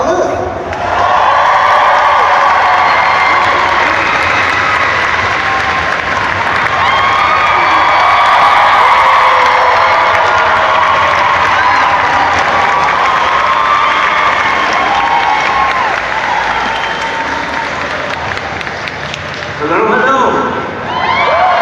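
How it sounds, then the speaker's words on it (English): A noisy audience at the MomoCon 2023 anime and gaming convention cheers and applauds steadily for about twenty seconds, a dense, loud wash of crowd noise that dips briefly near the end. "This is a very, very noisy crowd"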